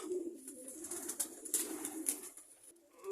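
Pigeons coo softly in a low, repeated rolling rhythm, close by and fairly quiet, with a few brighter clicks and rustles.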